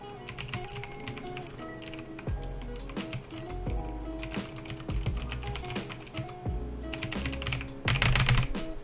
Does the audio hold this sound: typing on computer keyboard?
yes